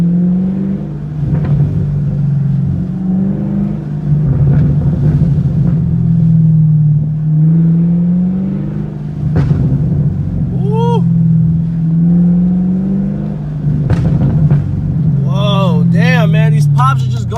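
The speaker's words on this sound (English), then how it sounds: "These pops are just going hella loud." A Chevrolet Camaro idling and cruising in sports mode with exhaust valves opened, a loud close rumbling drone with occasional sharp pops and crackles, and someone talking over it.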